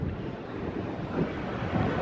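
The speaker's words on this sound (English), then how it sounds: "Oh, it is windy here in between the ships." Strong wind blows between docked cruise ships at a port, heard as a loud, continuous rumbling buffet of gusts hitting the microphone, with no clear voices.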